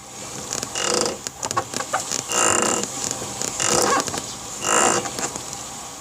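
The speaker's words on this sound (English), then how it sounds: "that's definitely the belt making that noise" A drive belt catches at the front sprocket, giving repeated rubbing squeaks and chirps in uneven bursts, some sharp and loud, heard close with no talk.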